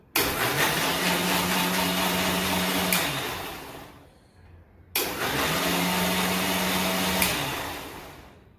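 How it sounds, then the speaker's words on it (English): Near and loud, a mixer grinder jar whirs steadily while blending mango pulp, running in two bursts of a few seconds each with a short pause between them and a wavering motor hum throughout. "Now we will cover the jar and start the mixing."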